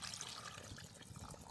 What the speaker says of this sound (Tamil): அதோட தண்ணி விடுவோம்.